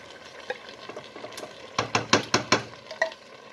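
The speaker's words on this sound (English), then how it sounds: "I'm going to put in the coconut milk" Cold, partly solidified coconut milk is spooned into a hot pan of curry, heard as a quick run of sharp spoon-on-pan clacks over a faint background sizzle.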